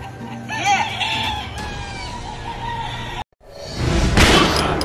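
Loud, close chicken clucking and crowing-like calls over a busy background, broken by a brief silent cut before the noisy clucking resumes.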